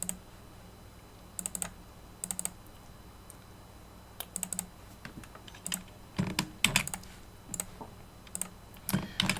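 Someone types on a computer keyboard in quick irregular bursts of clicking keys separated by short pauses, close and crisp over a quiet background hum.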